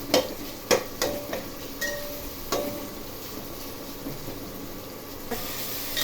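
Tomatoes salted in a pan cook with a steady low sizzle, broken by a few sharp clicks and spoon scrapes against the pan, close and moderately quiet with no talk.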